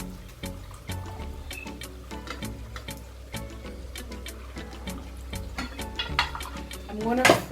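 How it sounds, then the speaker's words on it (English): Meat broth from a beef stew is poured off into a bowl in a kitchen, a trickling liquid sound with light clinks and handling noises, ending in a brief splashy pour. "I will take this water out, the one that's in meat, and then I'll put it in a bowl."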